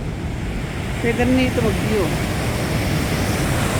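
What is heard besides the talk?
Niagara Falls rushing water and waves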